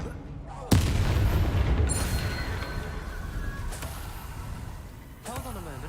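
Spell combat explosions in Hogwarts Legacy: a sudden loud blast followed by a rumbling, crackling decay and further impacts, with a voice calling out during the fight.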